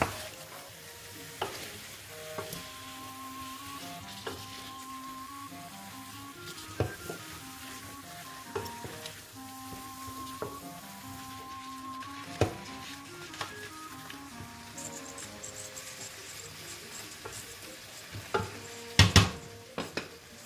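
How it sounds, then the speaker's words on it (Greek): Onion and celeriac stirred in a pot, soft sizzling under repeated scraping and clinking of a utensil against the metal, a few sharper knocks near the end, close by, no talking. "Το ανακατεύουμε και λίγο για να πάει παντού και το κρεμμύδι και η σελινόριζα"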